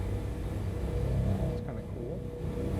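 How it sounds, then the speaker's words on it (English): Engine generator sound effect from a space station library: a continuous low rumbling drone with a steady mechanical hum, fairly loud and unbroken, with a faint swooping tone passing through midway. "Engine generator."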